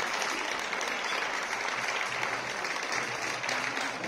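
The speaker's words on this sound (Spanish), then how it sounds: "Siga el aplauso, siga el aplauso." An audience applauds at a carnival samba performance in Montevideo, a dense, steady wash of clapping from many hands that continues without a break.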